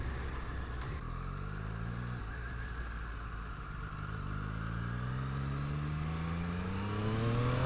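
Triumph Street Triple RS motorcycle engine pulling up through the revs on a first ride, a steady rising drone with a brief dip at a gear change and wind rush, no talk.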